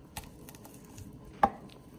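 A knife slices through frozen shrimp in a few sparse, crisp cuts, with one sharp louder crunch standing out. The cuts are close and quiet, with no talk.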